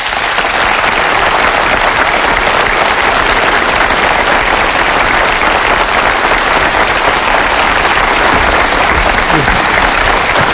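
A lecture-hall audience breaks into loud, sustained applause as two film actors come out on stage, a dense, even roar of many hands clapping that holds steady throughout.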